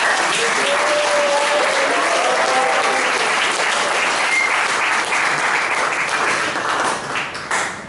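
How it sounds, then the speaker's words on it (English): Sustained, dense audience applause at a meeting fills the clip loudly and evenly, with a faint voice under it, before it tapers off near the end. "I think she deserves a big round of applause."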